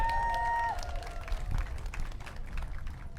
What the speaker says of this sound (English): Round of applause for everybody who's here today to celebrate.